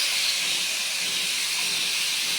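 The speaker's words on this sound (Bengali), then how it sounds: "ডাঁটাটা দিয়ে দিলাম।" A steady, loud sizzle comes from stems added to a frying spice mix in a pan, a continuous close hiss with no pauses and no talking.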